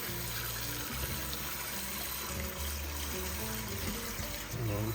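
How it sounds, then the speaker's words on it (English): Cold tap water runs steadily over raw chicken in a kitchen sink, a continuous close trickle and splash with no breaks, alone without talk. "Put on some cold water."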